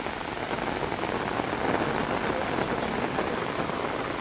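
Heavy rain pours down steadily during an evening of river fishing, a dense, even hiss of drops hitting surfaces close by with no break.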